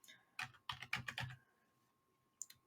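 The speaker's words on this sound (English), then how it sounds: "I'm actually going to manually type in the invoice number" Fingers tap out an invoice number on a computer keyboard in a quick burst of close, crisp keystrokes, then a pause and two more short clicks near the end.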